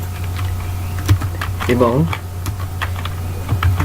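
Keyboard typing while building a web page header, scattered soft key clicks running under a steady low hum, with someone briefly speaking in the middle.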